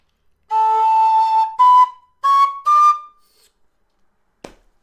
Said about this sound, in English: Now, second octave A, starting there and going up.